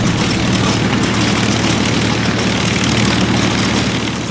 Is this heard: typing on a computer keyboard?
no